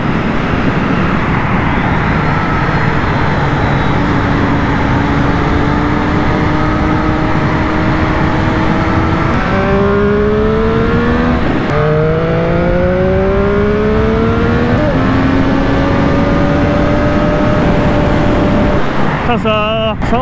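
A Triumph Street Triple 765 RS sport motorcycle pulls hard with a steady engine drone and wind roar, revs rising and falling through several gear changes, loud and continuous from the rider's position.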